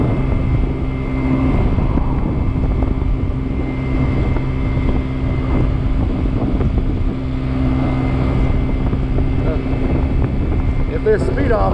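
A Kymco Agility 50 scooter ridden at full throttle without its windscreen, giving a steady small-engine drone buried in loud, gusting wind rush throughout.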